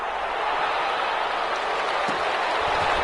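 Steady crowd applause fills the whole stretch, an even wash of clapping at moderate volume with no clear voices on top.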